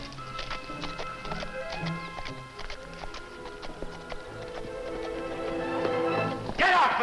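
Hooves clip-clop in a steady rhythm as a rider approaches along a trail in an old western TV drama, mixed with sustained dramatic music that builds toward a louder swell at the end.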